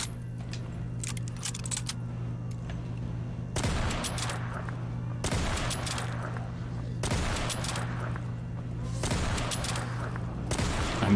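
PPSh submachine gun with a drum magazine firing in Black Ops III custom Zombies, several rapid bursts of game gunfire over a steady low hum of game ambience.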